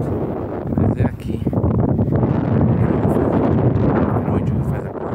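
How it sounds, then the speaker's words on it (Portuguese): Wind buffets the microphone at the mouth of the Ceará Mirim river, a steady, loud, rumbling roar with gusty swells across the whole stretch. "Deve estar fazendo barulho. Vento."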